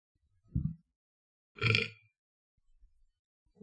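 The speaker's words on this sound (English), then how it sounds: "I burp a lot when I'm out for some reason." Two loud, close belches a second apart, the first short and low, the second longer and broader, with faint rumbles trailing afterward and no talk.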